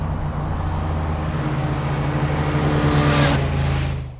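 A motorcycle accelerates hard out of a bend, a steady loud engine drone building in pitch and volume over a few seconds before easing off at the end.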